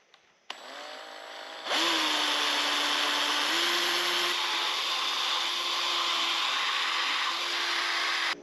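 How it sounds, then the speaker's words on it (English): A power drill starts up and runs steadily at high speed, drilling holes in a Toyota Tundra fender, a loud continuous whine that holds for several seconds after a couple of brief clicks. "then I'll drill some holes and see if that gives us enough clearance"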